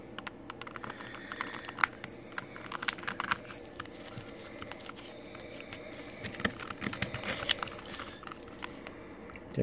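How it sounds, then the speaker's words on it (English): Tape being peeled and pulled from a Rubik's Cube, giving a steady stream of close crinkly tearing and ticking sounds with brief sharper snaps, no voices. "Pull off these pieces of tape."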